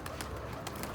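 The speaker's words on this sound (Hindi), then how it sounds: "अभी कबूतर बहुत ज़्यादा डर रहे हैं सारे ही" Pigeons give soft, brief coos and flutters at close range over a low background hum, faint and quiet.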